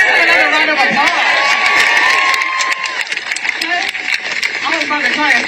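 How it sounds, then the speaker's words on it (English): A crowd at a street protest cheers and claps loudly, a dense roar of voices and applause with shouts rising over it and a voice speaking through the noise. "Let's give him another round of applause"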